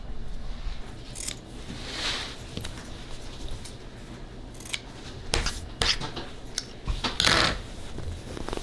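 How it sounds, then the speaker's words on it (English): Scissors snipping excess fabric and thread from a sewn dinner table placemat, several crisp short cuts scattered over a quiet background, close by and without talking. "You're just cutting the excess. Don't cut the thread."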